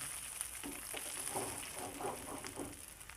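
Sesame oil heating in a pan on the stove gives a soft, steady frying hiss with faint crackles and pops, low in level and continuous throughout, with no talking.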